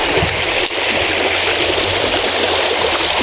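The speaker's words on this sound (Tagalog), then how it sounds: "Dito ako ngayon sa gilid ng sapa." A creek flows steadily along its bank, a loud, continuous rushing and gurgling of water, close by and unbroken throughout.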